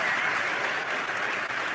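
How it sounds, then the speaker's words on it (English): Crowd at a remembrance gathering claps for the governor, a dense, even wash of many hands clapping, steady and fairly loud with no pauses. "give your governor a round of applause"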